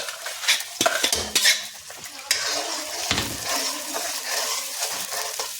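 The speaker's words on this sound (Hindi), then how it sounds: "प्याज में है, तेल में भुना ही है, थोड़ा सा इसको भून लेंगे तेज करके गैस।" Onions frying in oil on high heat for matar paneer, with a constant sizzle under repeated scraping stirs of a spoon against the pan, close and moderately loud.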